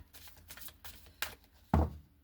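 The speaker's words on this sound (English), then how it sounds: "One more time with a shuffle." A tarot card deck being shuffled by hand, with soft papery riffles and brushing taps across the clip and a sharper, louder snap near the end.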